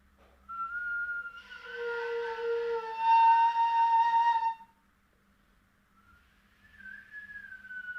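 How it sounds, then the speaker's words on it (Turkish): A person whistles a short melody of clear, sustained tones that shift in pitch, pausing briefly before resuming more softly, close and alone with no talk. "Şimdi geçelim tekrardan ıslıkla çalmaya."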